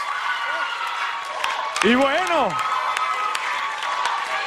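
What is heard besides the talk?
audience applause for Sofía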